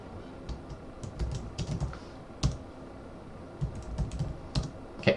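Someone types on a computer keyboard while setting up a Docker Swarm cluster: sparse, irregular bursts of clicky keystrokes with short pauses between them, near and fairly quiet, with no voices.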